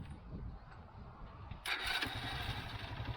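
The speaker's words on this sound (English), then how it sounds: "this motorcycle has a very good sound. I will show you." Quiet background, then a Vietnamese Honda Win motorcycle engine cranks and fires up about halfway, settling into a close, rumbling idle.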